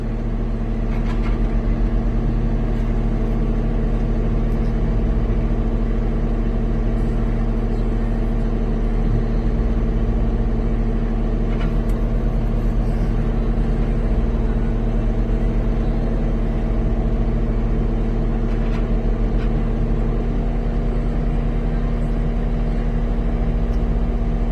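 An old Serco 7000 log loader, loading water oak logs onto a truck outdoors, runs with a steady, unbroken engine drone at moderate distance for the whole stretch, with no talking over it.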